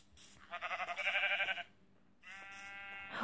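Two bursts of sheep bleating from Minecraft Pocket Edition, the first a pulsing, wavering bleat and the second a steadier, higher one after a brief gap, heard clearly on their own.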